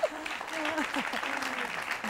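A live interview audience applauds in a brief burst of clapping, heard under and after a voice speaking over it.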